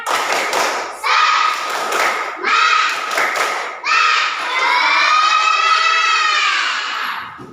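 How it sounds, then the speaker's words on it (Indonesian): Schoolchildren shout a 'tepuk semangat' spirit cheer together, with loud rhythmic claps and thumps between bursts of chanting voices, ending in a long sustained group shout. "Tepuk semangat"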